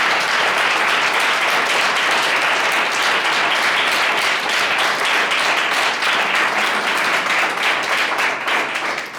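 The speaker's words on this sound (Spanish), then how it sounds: "pues dale otra vez palmas." A church congregation claps their hands in loud, continuous applause during a worship service, the rhythmic claps filling the room evenly from start to finish.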